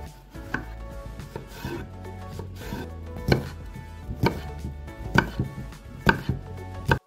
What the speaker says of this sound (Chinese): 切成小块。